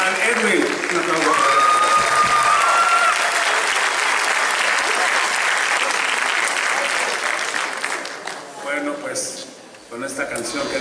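Sustained audience applause at a posthumous tribute concert, loud and dense for most of the span, thinning and breaking up near the end while voices briefly talk over it.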